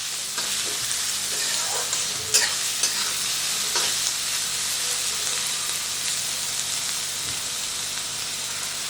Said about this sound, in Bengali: মিনিট 2 মতো পেঁয়াজটাকে ভাজা করে নেব।